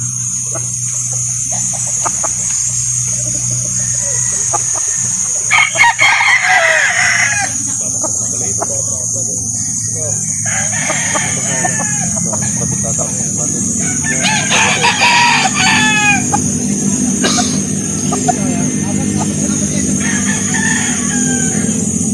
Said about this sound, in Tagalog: Mga manok na lumilipad, ang taas na lipad.